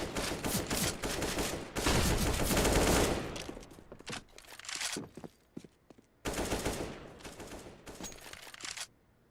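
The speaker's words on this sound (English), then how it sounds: "Now there's just pistols again here." Rapid pistol gunfire in a Counter-Strike esports match, loud cracking bursts in two dense stretches separated by a quieter gap with scattered shots and movement.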